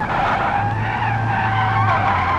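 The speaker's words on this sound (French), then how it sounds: "Oh, le drift." A car drifts in BeamNG.drive, its tires squealing and skidding in one continuous, wavering screech over a low engine note for a couple of seconds.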